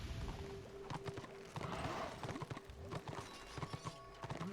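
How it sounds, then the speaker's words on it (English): Horse hooves clip-clop in the Warhammer Online: Return of Reckoning video game, a steady trotting patter at moderate volume mixed with game effects and other ambient sounds. "maybe I should get on my horse while I follow him"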